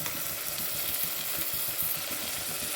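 Onions sautéing in oil in a pan, a steady even sizzle with faint stirring scrapes, close and continuous with no voices.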